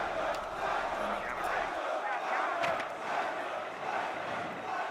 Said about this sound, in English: You can hear the crowd already excited.